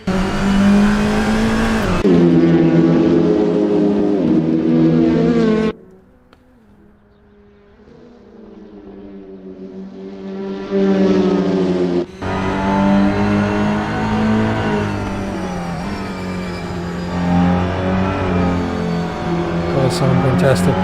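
TCR touring race cars at Tor Poznan in Poland, from a racing simulator, roaring loudly through gear changes with revs rising and falling, a brief lull as a car passes, then more engines snarling past close by, with commentators talking over them.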